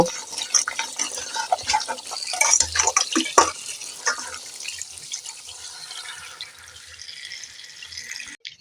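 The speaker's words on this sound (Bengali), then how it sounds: "তেঁতুলগুলো ঠিক এইভাবে একটু ভালো করে ধুয়ে নেব" Cut tamarind pieces are rinsed under running water in a home kitchen, with splashing, dripping and handling bursts in the first half that settle into a softer steady trickle before stopping.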